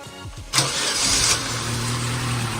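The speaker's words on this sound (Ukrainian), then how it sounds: "перший запуск нового власника" A car engine cranks and catches at about half a second, then settles into a steady idle, close and loud with no talk, on the first start for its new owner.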